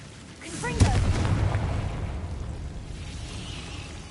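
A Confringo blasting spell bursts in Hogwarts Legacy: a sharp crack followed by a rumbling, booming explosion that fades into a low roar, loud and close, with a voice shouting over the start.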